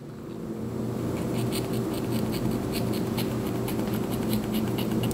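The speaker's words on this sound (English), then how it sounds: "I'm just dragging the scissors along." Scissors dragged along the lace of a long curly closure wig make a steady, close scratchy rasp with faint rhythmic ticks, continuing evenly without speech.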